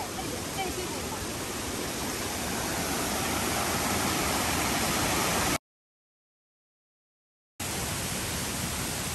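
A mountain waterfall at a broad rest area along the Datun Creek old trail near Little Guanyin Mountain pours with a loud, steady, close rushing roar that cuts to silence for about two seconds before resuming.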